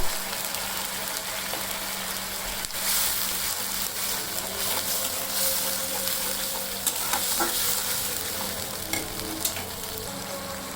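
Onion paste and cumin paste fry in a pan with a continuous close sizzle, broken by stirring scrapes and a few sharp clicks, alone without speech.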